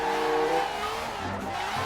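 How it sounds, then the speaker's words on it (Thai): A drifting car in Forza Horizon 4 slides under the handbrake, its engine droning loud and steady with a sustained tyre squeal for about two seconds. "ผมแนะนำให้เพื่อนๆดิฟนะ แบบนี้ ดึงเบรกมือครับ"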